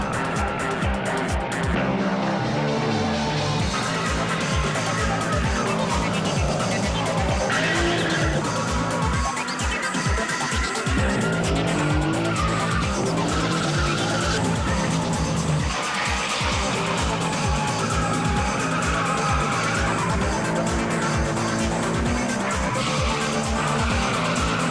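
Cars drift around a track with tires skidding and squealing nonstop over loud, revving engines, forming a dense, continuous roar.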